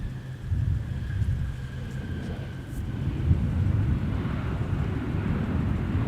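A Delta Boeing 717 landing with its thrust reversers deployed gives off a deep, steady, distant roar and rumble that holds at a fairly even level, with faint higher hiss above it.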